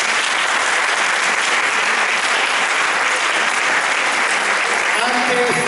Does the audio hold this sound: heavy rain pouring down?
no